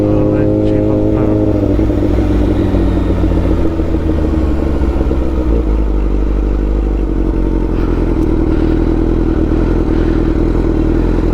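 A motorcycle fitted with an SC Project MotoGP exhaust and an R&G muffler revs loudly and close by, its deep rumbling idle swelling into throttle blips, while people talk over it throughout.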